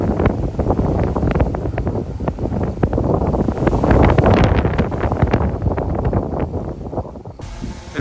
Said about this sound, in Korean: 이렇게 바람 부는데